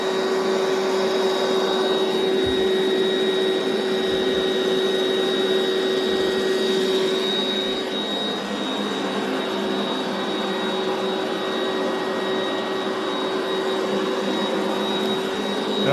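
Electric pump inflating a CHILLSUN two-person air mattress, a steady, loud mechanical whine and whoosh of rushing air that continues without a break from start to finish.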